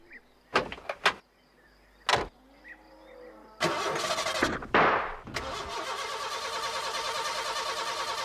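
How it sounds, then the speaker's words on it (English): Postman Pat's van cranks over and fails to catch, a sustained rough grinding that follows a few sharp clicks and thuds, fairly close and with no talking. "She won't start, Ted."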